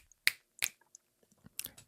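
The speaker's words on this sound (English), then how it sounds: "I'm snapping my fingers for those not watching." Two sharp finger snaps ring out close and clear, followed by a few softer clicks and a final cluster of snaps, with no talking.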